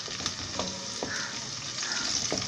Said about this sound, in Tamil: நமக்கு வெங்காயம் நல்லா வதங்கிருச்சு பாருங்கள்